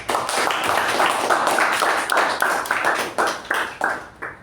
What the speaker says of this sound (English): let's have a huge round of applause for it.